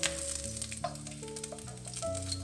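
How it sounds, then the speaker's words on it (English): Trimmed fat from a leg of lamb renders in a pan over low heat, a soft continuous sizzle with light crackles beneath sustained background music, no talk. "I've trimmed some fat from the leg of lamb. Fry it over low heat."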